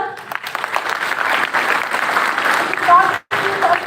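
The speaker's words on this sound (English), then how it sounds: "So claps for sir." Audience applause for a professor at a school talk, a dense steady clatter of clapping hands filling the room for a few seconds, with a brief cutoff near the end.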